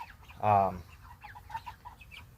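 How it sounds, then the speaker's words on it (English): Chickens in a dirty coop, one loud, close cluck followed by softer, scattered clucks and murmurs. "These chickens, absolutely nasty."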